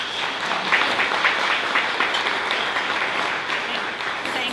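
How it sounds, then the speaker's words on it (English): An audience at a state government forum on criminal justice applauds its panelists, a sustained, even wash of many hands clapping at moderate loudness, heard alone without speech. "let's just give a round of applause for panelists"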